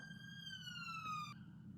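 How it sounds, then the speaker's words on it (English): An ambulance siren passes outside, a long descending wail that sounds steady at moderate distance and then cuts off abruptly, with no one talking. "and that was an ambulance."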